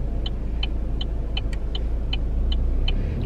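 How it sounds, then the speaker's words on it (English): A car drives along a road, heard from inside as a steady low engine and road rumble with a regular ticking sound running through it, and no one speaking. "We're gonna go for a drive."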